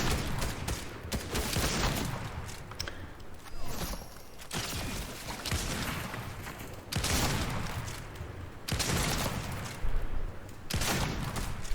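Shots in a video game firefight, with several heavy bursts of gunfire separated by short lulls over a continuous noisy battle ambience.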